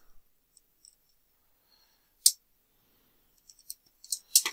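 Scissors or cutters snip through the wires of old 5-volt LED pixel strips in a quiet room. Sharp, close cutting snaps come at about 2.3 seconds and again near the end, with small clicks between them.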